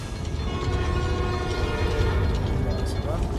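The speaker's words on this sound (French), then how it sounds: "Et le super métro new-yorkais." New York subway train in the Spider-Man: Miles Morales game, a steady rumbling roll of the cars with tonal hum and squeal over a low rattle, continuous and fairly loud throughout.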